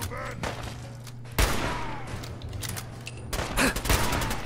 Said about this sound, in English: Let's get my hunting rifle out.